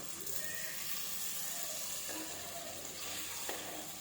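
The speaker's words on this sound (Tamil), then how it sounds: "தக்காளி விழுதையும் அதில் வந்து ஊற்றிக்கலாம்" Ground tomato paste is poured over okra sizzling in a clay pot, producing a continuous soft frying hiss with faint stirring and liquid movement. The sound stays quiet and even, with no voices.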